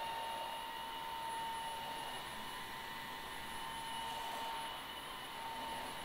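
A Tesvor R5 cordless wet-dry vacuum and mop runs in strong mode over a floor with spilled chocolate syrup, giving a loud, steady whirring motor hum with a high whine and no break.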